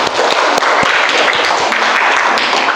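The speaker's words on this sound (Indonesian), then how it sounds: "beri tepuk tangan untuk kalian" A classroom group applauding at a school lesson, dense clapping filling the whole stretch at steady loudness with scattered sharper taps.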